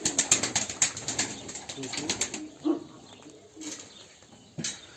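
Pigeons in a loft, with bursts of wing flapping over the first half and soft coos after, heard close up alongside some background voices.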